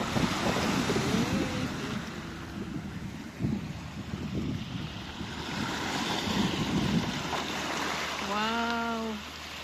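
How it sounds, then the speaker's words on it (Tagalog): Sea waves slap and wash against the side at a shoreline during a seaside barbecue outing, a steady moderate surf with wind noise throughout, a brief splash near the middle, and a short tonal sound near the end. "Lumalakas na rin yung alon."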